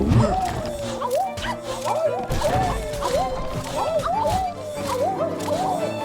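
Dog-like creatures in Hollow Knight: Silksong barking in quick repeated yips over a steady rhythmic music bed and clattering game effects, moderately loud throughout.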